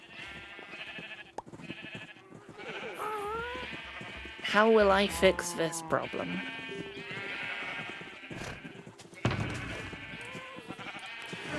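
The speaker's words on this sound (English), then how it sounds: "Silly sheep." Several sheep bleating in Minecraft, with wavering cries rising over a voice talking through much of the clip, one cluster of loud overlapping bleats near the middle.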